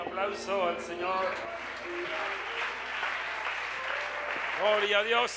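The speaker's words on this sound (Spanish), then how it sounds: "Un aplauso al Señor." Church congregation applauding during a worship service, a sustained wash of clapping from many hands while voices shout and speak over it.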